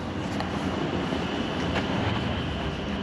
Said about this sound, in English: you can hear a C2C train leaving for Fenchurch Street, with its next stop being Barking